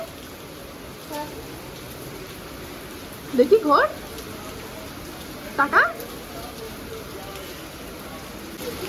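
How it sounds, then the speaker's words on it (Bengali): Heavy rain pouring down at midday, a steady, dense hiss that continues throughout while people talk briefly nearby. "দুপুর একটার সময় এখন ঝমঝমিয়ে বেশ বৃষ্টি নেমেছে"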